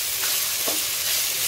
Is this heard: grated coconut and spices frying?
yes